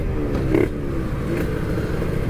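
A bored-up Kawasaki Ninja RR two-stroke motorcycle engine revs close by in short bursts, a sharp blip rising then settling back to a rough idle with some mechanical clatter.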